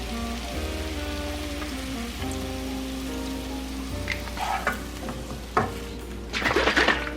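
Rice vinegar poured into a soy-based Japanese barbecue sauce simmering in a pan, a steady close sizzle and bubbling that swells into louder spattering crackles near the end.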